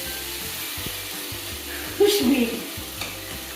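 A spoon stirring an onion mixture in a frying pan for bourek with béchamel, with a soft steady sizzle and a few scraping strokes, plus a brief spoken remark.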